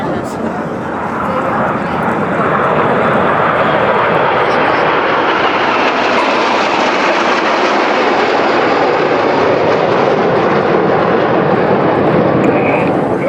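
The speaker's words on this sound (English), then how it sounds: "There's a lone jet. His smoke comes on." A Red Arrows jet roars continuously overhead at the Malta airshow, a loud broadband rushing engine sound swelling and holding steady throughout, with faint voices beneath.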